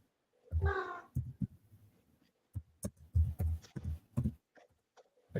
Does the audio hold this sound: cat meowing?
yes